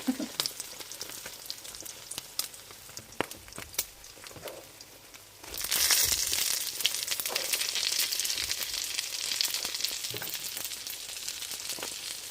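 Chicken omelette frying in a pan, with a soft crackling sizzle and occasional stirring clicks that swell into a louder, steady hiss partway through.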